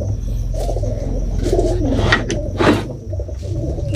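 Pigeons of Azan and Teddy breeds, kept by hobbyists, coo in low repeated throaty calls close by over a steady background hum, with a couple of brighter bird sounds mixed in.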